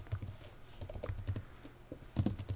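Quick typing on a computer keyboard, close-up clattering keystrokes in uneven bursts with a short pause before a final flurry.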